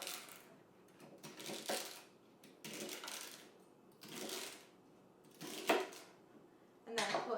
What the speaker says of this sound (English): Cut the carrots in small pieces, and also cut the celery.